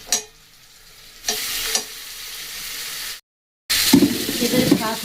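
Egg, fish and potato are mixed with a splash of rose water in a bowl, giving bursts of wet scraping and stirring with a short silent gap between strokes.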